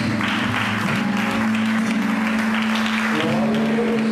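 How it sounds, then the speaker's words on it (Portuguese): A church congregation claps in praise during a worship service, sustained applause over a steady held musical tone, with voices mingling in. "Você pode aplaudir a esse Deus."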